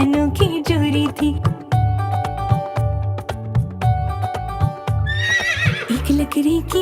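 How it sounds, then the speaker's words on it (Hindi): In a Hindi nursery rhyme, rhythmic clip-clop hoofbeats play under a bouncy musical backing, and a high, wavering horse whinny rises loudly near the end over the music. "छबीला घोड़ा था एक छबीली घोड़ी थी"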